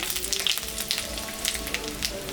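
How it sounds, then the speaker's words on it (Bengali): Cumin seeds, dried chillies and a little extra oil added to hot fish-frying oil set off a steady crackling sizzle with quick pops scattered through it, close and continuous. "জিরা, শুকনো লঙ্কা, সম্বরা দিলাম,"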